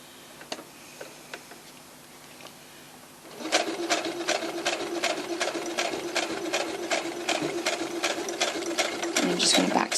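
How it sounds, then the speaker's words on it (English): A sewing machine stitches and back-stitches a decorative kitchen towel, starting after a quiet stretch with soft knocks, then running in a steady rapid ticking rhythm, close and fairly loud, to the end. "And I'm just going to back stitch at the end again."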